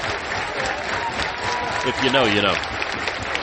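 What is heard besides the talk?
baseball crowd doing the two-strike clap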